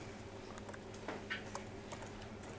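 Faint, sparse keyboard clicks from someone typing on a computer keyboard while working through financial paperwork, with a few scattered keystrokes over a quiet background.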